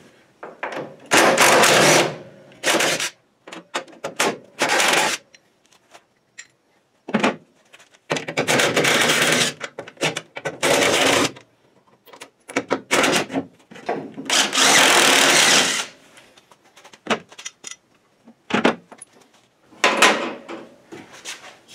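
Power tool backing out the door hinge bolts on a 1968 Ford Mustang, with loud repeated bursts of whirring and rattling broken by short silences and metallic clunks, all close by.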